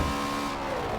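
In the Forza 7 racing game, a Ford Mustang GT350R with its Voodoo engine drones through a short, steady burst of game engine tone, fairly quiet and uninterrupted.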